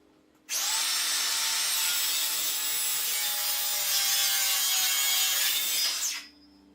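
Power saw cutting a mitre in wood, a loud continuous whining rasp that starts abruptly, holds steady for about six seconds and then cuts off, heard up close with no talking.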